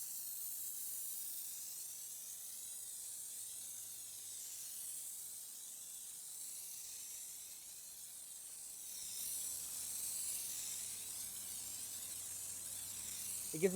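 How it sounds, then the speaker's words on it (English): Soft, steady hiss of a foam sprayer laying cleaning foam onto a car during a detail, faint and continuous with slow swells, swelling slightly toward the end before a small knock. "Aim it, spray."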